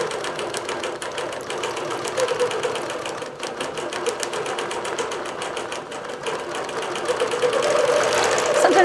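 A digital quilting machine stitches a quilt with a steady, rapid mechanical chatter, its needle strokes beating in a fast even rhythm that grows slightly louder toward the end, with no talk.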